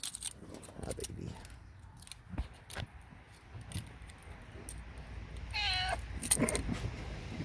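A cat meows in a garage in Kentucky during a car headlight installation, a few short meows rising over scattered tool clicks and metallic handling noises, with someone talking intermittently nearby.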